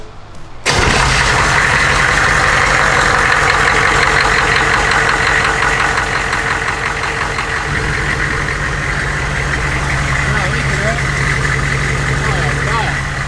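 A Humvee diesel engine cranks and fires up abruptly, then settles into a loud, steady, knocking idle close by for the rest of the span.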